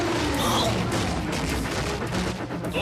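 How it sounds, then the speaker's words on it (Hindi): Cannon fire in a Transformers: Robots in Disguise cartoon battle, a dense, loud burst of booming blasts and crashing impacts that fills the whole moment with no pause. "तोप का गोला।"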